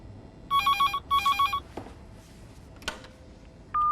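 A telephone rings in two quick trilling bursts, clear and fairly loud, followed by a brief clatter as the receiver is handled and then a steady tone.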